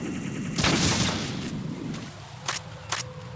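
Gunfire in Metal Gear Solid 2: Sons of Liberty, a burst of rapid shots followed by two sharp separate reports, moderately loud over a steady game ambience.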